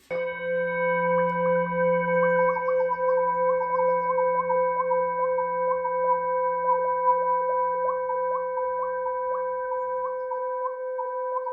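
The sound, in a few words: Tibetan singing bowl ringing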